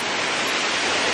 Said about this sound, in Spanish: no sé si me escuchan porque estamos en una cascada